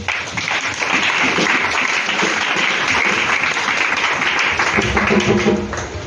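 A church congregation applauding in a dense, continuous burst of clapping that fills the room, loud and steady, with some voices mixed in underneath.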